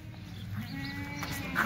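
Kathiawadi goats bleat faintly in a livestock setting, with a few short, wavering calls over low background noise.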